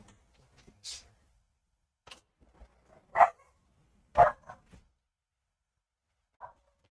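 A pet dog reacting to a cat climbing a backyard fence gives a few sharp, scattered barks and yips at moderate distance, separated by quiet gaps, with no talking.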